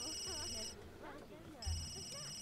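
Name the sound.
telephone ringing in the video game The Sims 3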